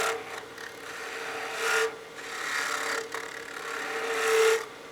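A 3/8 gouge cuts wood on a lathe while turning a wine glass and parting down the waist, giving a steady rasping, rubbing scrape over a constant motor hum that swells at times and eases between passes.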